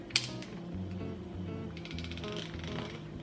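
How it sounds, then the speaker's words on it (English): Close mechanical ratcheting clicks from the small film-advance wheel of a Lomography La Sardina camera being turned, a quick run of dry clicks with a faint hum underneath. "spin the little advancing wheel until it stops"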